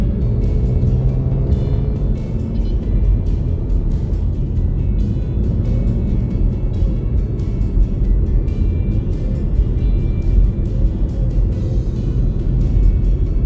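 Steady street traffic in Taytay, Rizal, with tricycles and jeepneys, a continuous close engine rumble and hum with passing vehicles throughout, no voices.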